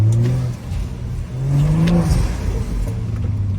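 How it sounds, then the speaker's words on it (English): A stage 2+ tuned BMW accelerates, its engine rising in strong, swelling pulls of intake roar with a brief dip between, close and loud from inside the car. "Damn, that intake though. That intake sounds mad."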